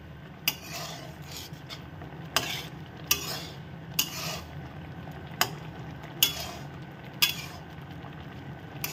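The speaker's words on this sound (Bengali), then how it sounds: "এই যে ঢেলে দিল তিলের গুঁড়োটা, আমি এর মধ্যে দিয়ে দিলাম, দিয়ে এখন আমি নেড়ে দেব।" A spoon stirs sesame powder into olive chutney in a pan, with sharp scraping clinks about once a second over a faint, steady background.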